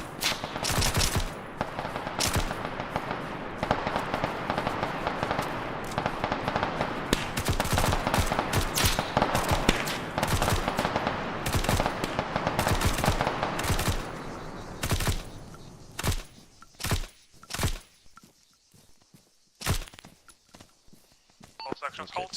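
Sustained covering fire in the video game Arma 3 rattles as dense, overlapping automatic bursts, then thins into scattered single shots toward the end, with voices talking underneath.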